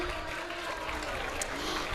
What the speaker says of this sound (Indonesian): Beri tepuk tangan dulu untuk teman-teman.